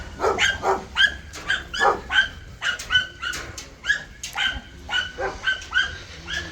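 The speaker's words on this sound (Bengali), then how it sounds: "বাপরে বাপ কুকুর" A dog barks repeatedly in quick, uneven bursts, close and fairly loud, with some higher yips mixed in.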